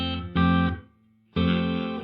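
An electric guitar played through a Donner 2-in-1 reverb and delay pedal on its room reverb setting with decay at minimum: two sustained strummed chords, each cut off fairly cleanly, separated by a short near-silent gap.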